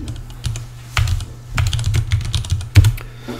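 Someone types quickly on a computer keyboard during an English grammar lesson. The keystrokes are crisp and close, with irregular bursts and short pauses, and no talking over them.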